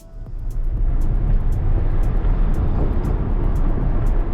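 Porsche 718 Cayman with a failing rear wheel bearing cruising at about 30 mph with the windows down, giving a steady loud road and engine rumble with a low drone throughout.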